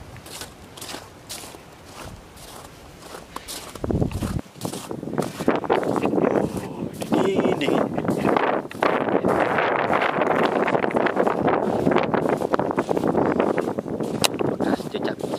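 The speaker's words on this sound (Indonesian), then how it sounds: "Wah, anginnya kencang." Strong winter wind outdoors in South Korea at -2°C near a frozen lake, gusting and buffeting loudly against the microphone, with footsteps crunching along and a voice speaking briefly.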